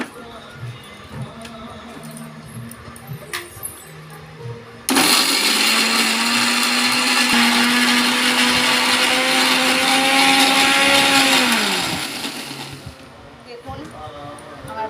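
A mixer grinder whirs loudly for about seven seconds, grinding chopped green chili and ginger into a paste, then winds down. Quieter kitchen sounds come before and after, and a voice speaks.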